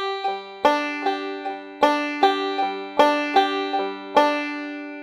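Bluegrass banjo rolls are played slowly with uneven finger force, bright plucked notes ringing in a repeating pattern where some strokes land noticeably louder than others, clear and close with no voices.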